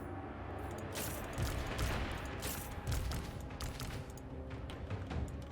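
Volleys of gunfire crackle and boom in a Total War: Warhammer III battle, dense overlapping shots rolling in repeated bursts at moderate distance, with no voices over them.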